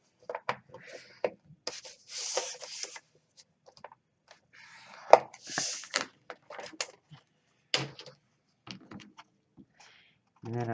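Cardstock is scored half an inch in along three sides, with soft, faint rubbing and scraping strokes in short bursts, broken by brief taps and quiet pauses.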